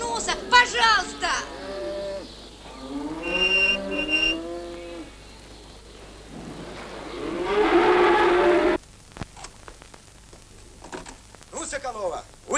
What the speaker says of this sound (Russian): Пелагея, загонь мою корову-то